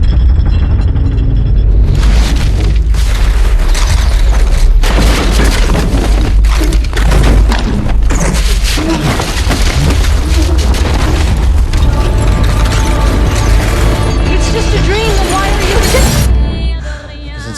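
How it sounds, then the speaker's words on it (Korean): Cafe street explosion scene from the film Inception: loud, dense blasts and shattering debris erupting from about two seconds in and continuing through most of the stretch, with booming low rumble and layered crashes before settling near the end. "2010년 인셉션에서의 이 카페거리 폭파신이 바로 그것으로"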